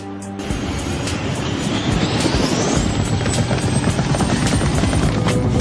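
A cartoon helicopter starts up and flies steadily, its loud rotor thudding evenly for several seconds over a rising whine, close and continuous with no talking.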